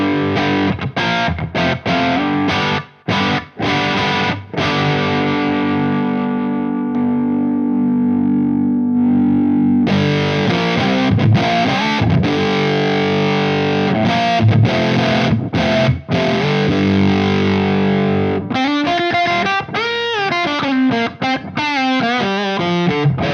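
Electric guitar run through an Electro-Harmonix Op-Amp Big Muff used as a boost with tone off and sustain down, into a slightly dirty amp channel; loud, distorted chords and single-note riffs with long sustain and brief stops.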